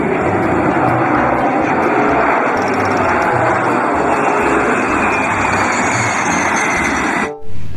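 An airplane roars continuously at close range, a dense, steady engine rush as it takes off, with no talking over it, and the sound cuts off abruptly near the end.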